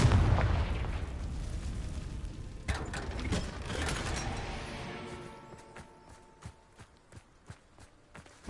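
Confringo blasting curse going off in Hogwarts Legacy, a loud burst at the start that decays into rumbling debris, followed by a second smaller blast and scattered faint impacts and footsteps.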